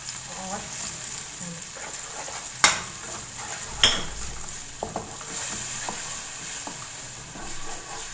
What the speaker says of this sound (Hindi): इसको मसाला में भून लूँगी अच्छे से।